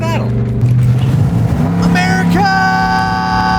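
A slow truck's engine revs loudly and close, its pitch climbing and shifting through a couple of rising sweeps, with a steady tonal hum carrying on afterward.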